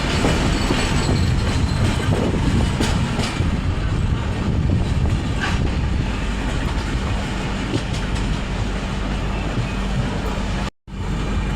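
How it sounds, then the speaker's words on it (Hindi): A long-distance express train, 12859 Gitanjali Express, rumbles steadily nearby as it reverses to join the line near Rourkela, with continuous low wheel and carriage noise and faint clatter, cutting out briefly near the end. "ये देखिए बैक स्विच कर रही है, अभी लाइन को ज्वाइन करेगी।"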